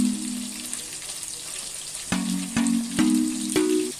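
Tamarind broth with mango simmers at a rolling boil in a pot, giving a continuous bubbling hiss, with a few sharp clinks or taps in the last two seconds.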